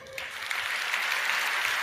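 A crowd at a sermon breaks into clapping after a brief pause, building quickly into a steady, even patter of many hands.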